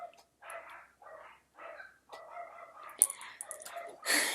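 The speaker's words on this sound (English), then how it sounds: "I don't know why my dogs are barking so much right now." Several dogs bark in short bursts, a few clustered yips and sharper barks rising toward the end, moderately close.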